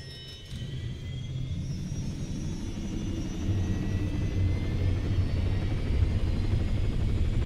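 Helicopter engine and rotor in ArmA 3, a loud steady turbine whine over a deep rotor rumble that grows slightly stronger midway, continuous throughout.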